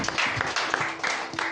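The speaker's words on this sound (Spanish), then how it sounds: "Dale un aplauso a Cristo." A church congregation claps in quick rhythmic bursts, close and fairly loud throughout.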